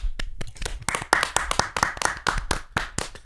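A small group claps for a guest on a podcast, quick uneven hand claps ringing out close and loud for a few seconds with no talk over them.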